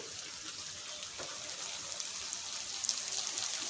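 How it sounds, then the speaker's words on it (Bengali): Onions frying in a pan for a mutton dish, a continuous crackling sizzle with tiny pops, steady and close, with no voices. "পেঁয়াজ ভাজছি, এই পেঁয়াজটা ওপর থেকে দিয়ে দেবো।"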